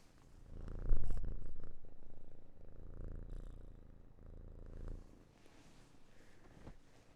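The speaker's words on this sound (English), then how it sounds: "Can't believe how loud she's purring." A female house cat purrs loudly and steadily up close, a deep continuous rumbling drone that swells near the start and then softens slightly before fading toward the end.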